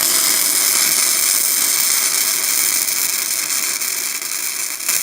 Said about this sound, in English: This is a fillet weld in 3 mil plate. We'll try that on stock settings on flux core.